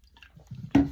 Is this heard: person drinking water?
yes